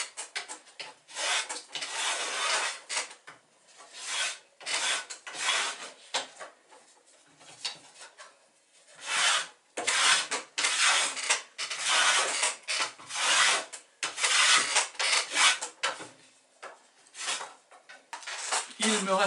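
Wooden spar for a toy model of a Berck fishing boat being planed down at the corners to make a hexagonal section, with repeated rough rasping strokes in bursts and short pauses, close and fairly loud, no talk.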